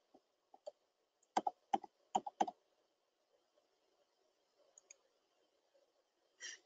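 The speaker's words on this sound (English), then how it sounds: "I'm just going to simply type in my password" A password typed on a computer keyboard, a few sparse, quiet key clicks in short clusters with pauses between, close and in an otherwise silent room.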